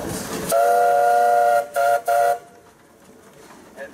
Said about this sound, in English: You have a whistle.